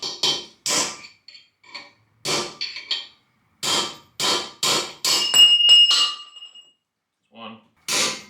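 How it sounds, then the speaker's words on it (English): Sharp, loud hammer blows strike in an uneven series, some close together and some spaced apart, with short metallic ringing after a few hits. "I love this hammer so much."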